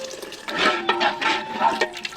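A short splashing gush of water poured into a cooking pot for mutton semolina upma, close and uneven, lasting a couple of seconds.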